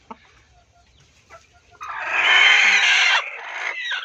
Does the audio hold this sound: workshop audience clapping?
no